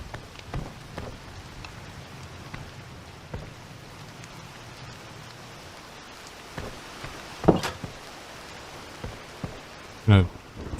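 Soft steady rain falls at night in a video game world, a faint continuous patter with a few louder knocks and clicks, while a voice talks over it.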